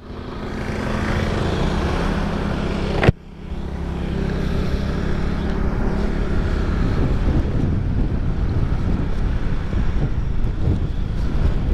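Strong headwind roars steadily into the microphone during a motorcycle ride near Malico, San Nicolas, a loud, dense rush with a brief sharp bump partway through and no voices.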